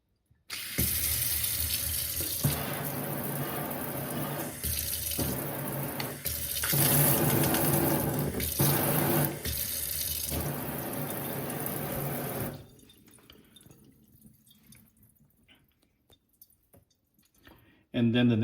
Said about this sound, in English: And then the main faucet.